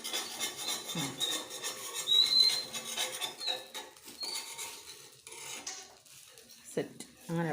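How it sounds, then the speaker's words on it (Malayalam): A spoon scraping and rubbing around the inside of a cooking pot while food is stirred from every side, giving close, irregular metallic scrapes with brief clinks and a faint whistle-like squeak, heard alone without talk. "എല്ലാ സൈഡും ഇളക്കി ഇളക്കി വാ."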